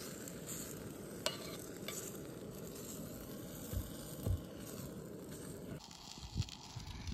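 Beans tipped into a frying pan already sizzling with bacon, a steady close hiss of frying with scraping stirs and a few sharp clatters of utensil on pan.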